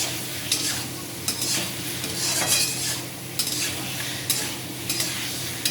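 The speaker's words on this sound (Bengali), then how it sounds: "বেগুন দিয়ে দিয়েছি, নাড়াচাড়া করবো" Fried eggplant and potatoes being stirred in a pan for a boroli fish curry: steady scraping and clinks of a spatula over a continuous low sizzle, with a few sharper metallic knocks and no talking.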